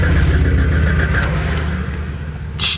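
A Jeep Cherokee XJ engine, brought back to life after years off the road, runs loud and close with a steady mid-pitched idle that swells into a rev, then eases back near the end.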